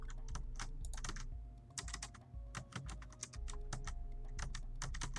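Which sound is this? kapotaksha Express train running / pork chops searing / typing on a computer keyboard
typing on a computer keyboard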